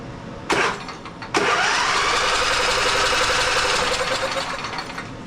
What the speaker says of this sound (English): I'm gonna spin the engine over.